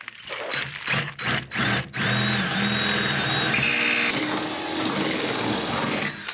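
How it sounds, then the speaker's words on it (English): Power drill makes holes in a cargo camper for brackets: several quick trigger bursts, then a steady, loud, close whirring run with the motor pitch shifting as the bit cuts. "We're going to drill in on either side."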